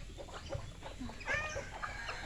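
Chickens at a coop cluck in short, close bursts over a steady background hum, with a few sharper calls rising near the middle.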